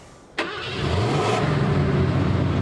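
A Ford F-150 engine in the MudRunner video game cranking and catching with a sharp start, then settling into a deep, rumbling idle that builds slightly in loudness, close and alone.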